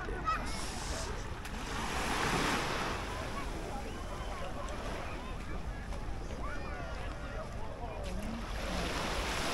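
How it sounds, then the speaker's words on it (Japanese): Small waves lap at the shoreline of Nagahama beach in Japan under steady wind noise, with a slightly louder surge early on and a soft, continuous wash throughout. "波もほとんどない、非常に泳ぎやすい長浜海水浴場。"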